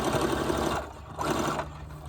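A sewing machine runs in two steady bursts of rapid mechanical stitching through fabric while signatures for a junk journal are sewn, each burst pausing briefly between them, close and fairly loud with no talking.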